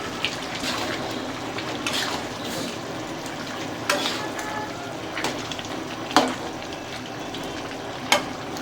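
Chopped tomatoes frying in a pan, a steady close sizzle with occasional sharper spoon clinks and scraping stirs punctuating the hiss, with no talking.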